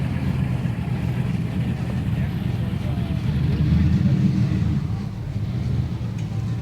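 Cars rolling into a classic car show at the Long Beach Hi-Performance Swap Meet. A steady low engine rumble and idling drone carries throughout, swelling slightly as vehicles pass nearby, and a voice talks over it.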